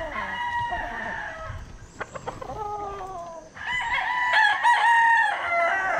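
Roosters crowing nearby, with one drawn-out crow followed by a louder overlapping crow from another bird, plus some clucking in between.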